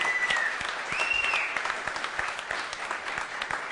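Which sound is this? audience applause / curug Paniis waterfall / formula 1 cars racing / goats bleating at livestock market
audience applause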